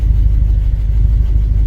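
A 1964 Ford Thunderbird engine with its original drivetrain runs with a deep, steady low rumble, loud and close, its slightly uneven pulsing continuing without a break.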